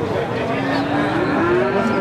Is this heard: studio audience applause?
no